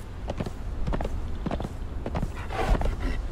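Horse hooves clip-clop across the ground in Conan Exiles, a steady walking rhythm of repeated hoof strikes over a constant ambient background, fairly close and moderate in level with no talking.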